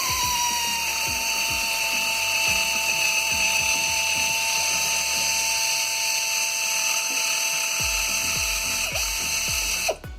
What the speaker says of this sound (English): what I'm going to do, air ratchet on there